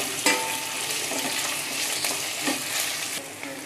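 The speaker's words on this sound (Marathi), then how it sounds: "आता आपण यामध्ये कांदा घालूया स्लाईस केलेला। कांदा आपल्याला थोडासा लालसर करायचा आहे।" Sliced onion frying in a pan, a steady broadband sizzle with occasional stirring scrapes and clicks, fairly close and continuous with no talk.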